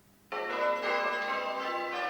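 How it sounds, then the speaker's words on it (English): Church tower bells in Pudsey, last recast in 1860, ring out after a brief quiet start: a bright strike that hums and sustains steadily, moderately distant, with no voices. "In the tower hang the bells that were last recast in 1860."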